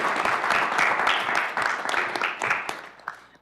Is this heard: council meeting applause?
yes